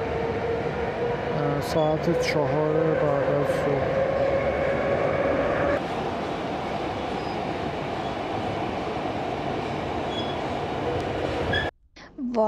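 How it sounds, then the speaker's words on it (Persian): A Tehran metro subway train rumbles and roars steadily with wheel squeal and rail clatter throughout, ending with a sharp cut near the close. Voices talk over it. "مترو تهران شنبه"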